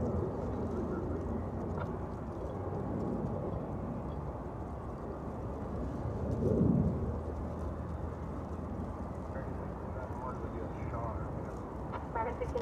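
Airliner taking off from runway 36 right at Dallas Fort Worth airport, a broad distant engine roar rumbling steadily and swelling slightly midway, heard under radio chatter.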